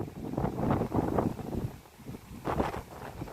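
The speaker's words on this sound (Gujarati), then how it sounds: "પવન બહુ છે" Strong wind gusting across an open farm field at sowing time, buffeting the microphone in loud, uneven bursts with brief lulls between.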